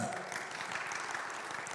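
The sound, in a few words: audience applause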